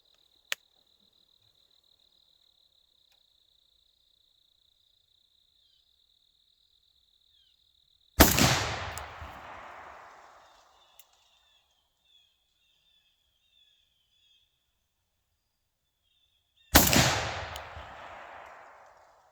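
Two loud rifle gunshots at a target 35 yards away, each a sharp crack with a long rolling echo, spaced about eight seconds apart over a quiet outdoor background with faint insect chirping.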